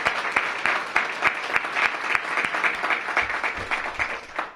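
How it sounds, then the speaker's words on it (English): An audience at a ribbon-cutting for a short-term family housing program applauds the mayor. Steady clapping is punctuated by sharp, distinct individual claps, with faint low murmurs beneath it toward the end. "I want to give our mayor a big round of applause"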